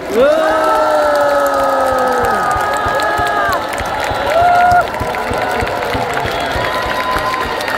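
A large crowd at a Democratic Party presidential nomination acceptance speech claps steadily while long, loud sustained tones like cheering voices or horns rise and fade above the applause.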